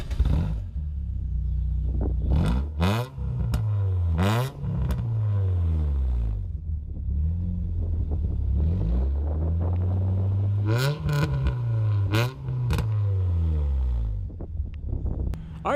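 A 2000 Nissan Sentra SE B15 with SR20 engine and MagnaFlow exhaust revs repeatedly, deep growly engine rising and falling through several sharp blips, loud and close.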